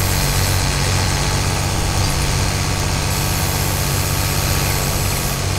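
A Sonalika 60 DI tractor in Farming Simulator 22 strains under a raised lift, its engine giving a continuous, loud, rough diesel rumble with steady mechanical vibration throughout.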